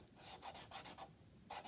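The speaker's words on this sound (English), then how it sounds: "you can always clean it off with some sandpaper" Sandpaper scraping graphite off a paper blending stump at a 45-degree angle: a quick series of short, close, gritty rasping strokes, faint and alone.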